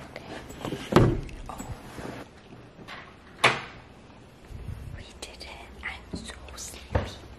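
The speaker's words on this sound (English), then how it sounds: "We're just gonna try and open the door." A door is eased open quietly in the middle of the night, soft clicks and thuds of the latch and panel standing out close by, with hushed whispering between them.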